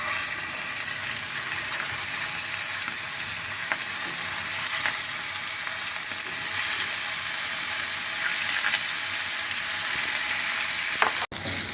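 Pangas fish pieces rubbed with turmeric and salt fry in oil under a lid, giving a continuous close sizzle with bursts of spitting and crackling and one sharp clunk near the end, with no talk.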